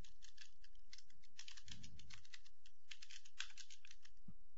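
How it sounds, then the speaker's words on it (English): Command text typed on a computer keyboard, a steady patter of fairly quiet, close key clicks in irregular bursts with one brief low thump partway through. "now I'll type the command DBCC Showcontig"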